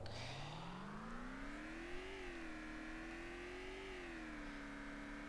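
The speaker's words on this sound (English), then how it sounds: "that's a car." A car driving in the survival video game Vein, its engine note rising steadily as it accelerates, then holding in a smooth, moderately loud continuous drone with slight pitch shifts as it cruises, with no talking.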